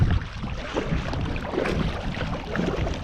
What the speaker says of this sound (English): I'm sorry about the wind today.